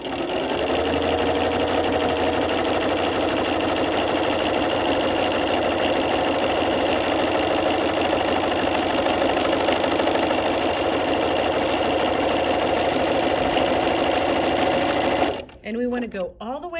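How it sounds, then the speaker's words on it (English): Sewing machine running steadily as it stitches around the edge of a fabric storage box, needle passing just off the material, a loud continuous mechanical whir for about fifteen seconds before stopping abruptly, followed by brief rustling. "now as I stitch this piece, I'm actually going to let the needle go just off the edge of the material"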